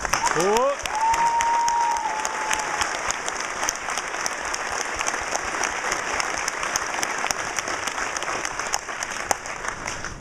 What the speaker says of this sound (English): How about a round of applause for our drill sergeants?